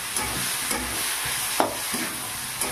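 Small pieces of meat sauté and sizzle in oil in a pan for ghugni, a steady close frying hiss with occasional scraping stirs, no talking.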